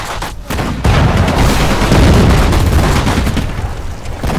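Infantry gunfire and artillery fire in the video game Sudden Strike 4, Allied campaign Normandy invasion, a loud, dense barrage of booming shots and rattling fire that swells after a moment and continues without pause.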